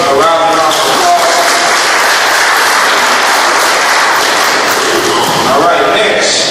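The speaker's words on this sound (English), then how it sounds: "So let's give Brother Kamola Muhammad a round of applause." An audience at a St. Louis town hall meeting on disaster preparedness bursts into loud, sustained applause that fills the room, with dense clapping and a few voices underneath.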